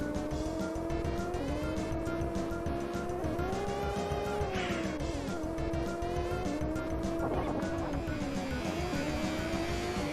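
A racing car in a retro video game whines through a sharp corner, the engine pitch rising and dipping with a few brief squealing tire bursts, loud and continuous with no talk.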